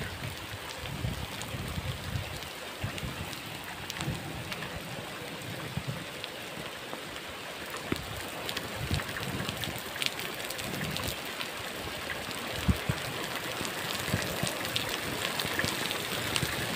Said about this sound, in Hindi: इतना इस टाइम बारिश बहुत ज़्यादा आती पई है